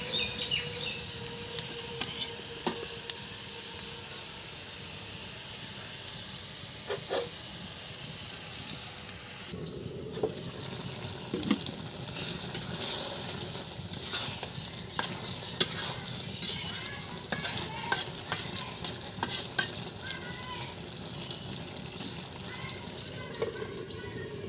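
Vegetables are sautéed in a pan for a home-cooked meal, a continuous low sizzle broken by frequent scraping and clattering strokes of a spatula, close by.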